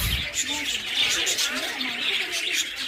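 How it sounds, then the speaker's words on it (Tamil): Lovebirds in a park aviary fill the air with dense, continuous high chirping and twittering, a busy flock chorus close by and fairly loud throughout. "இதெல்லாம் லவ் பேர்ட்ஸ் தான்"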